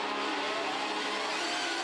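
Porsche Carrera Cup race cars at a standing start in Adelaide, engines held near a 7,500 RPM rev limiter, blaring as a loud, dense, sustained roar throughout.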